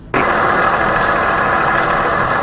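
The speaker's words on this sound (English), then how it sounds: "Pull back the throttle because I'm done with the engine." A Chinook ultralight aircraft engine drones loudly and steadily close by after an abrupt start, a constant rattling roar with no talk.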